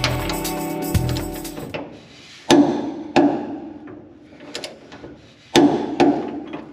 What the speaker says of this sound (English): we're going to go ahead and torque up this forward lower leaf mount bolt to 65